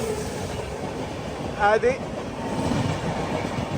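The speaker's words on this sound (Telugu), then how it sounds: "గ్రాండ్ ట్రంక్ ఎక్స్ప్రెస్ ఓవర్టేక్ కొట్టింది గుమ్మడిపుండులో." Grand Trunk Express rushes past at Gummidipoondi, overtaking a moving Circar Express, with a steady rumble and clatter of wheels on rails heard from inside the train, a brief whine in the middle and a short spoken word.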